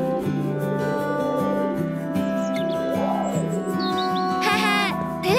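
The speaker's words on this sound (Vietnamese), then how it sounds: "Lũ chim phá hoại tới rồi" Cartoon flock of birds arriving, bright chirps and tweets rising over a steady musical background score, with a few rapid fluttering calls near the end.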